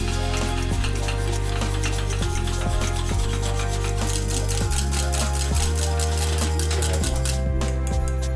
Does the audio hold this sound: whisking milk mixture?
yes